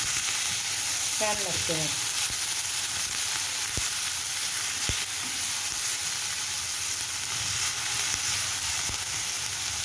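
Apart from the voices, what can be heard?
sautéing in oil for pav bhaji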